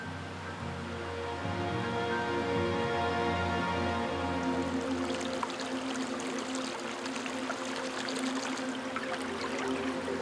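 Water running from a small tap into an absinthe glass, a steady close trickle and splash that starts softly and grows fuller and brighter as the flow continues, with a faint tonal hum underneath.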